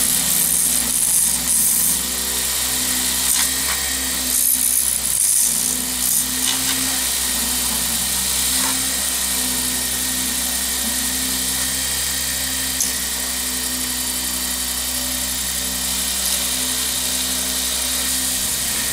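A wood lathe spinning at 3,800 RPM while turning a snakeskin pen blank between centers, a steady high motor whine with a constant hum underneath, close and unbroken for the whole stretch.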